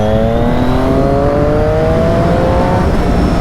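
A Triumph Daytona 675 sportbike's engine pulls hard in third gear, a loud, close, rising howl that climbs steadily in pitch throughout.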